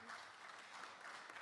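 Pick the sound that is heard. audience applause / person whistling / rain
audience applause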